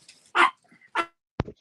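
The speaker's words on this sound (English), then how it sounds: "I hear a dog." A dog gives two short barks, followed by a quicker yip, close by and alone over a quiet background.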